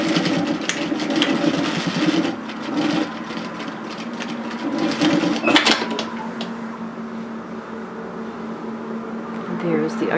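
A sewing machine stitches down a knit teddy jacket in uneven bursts, close by, with rustling fabric and handling noises around it.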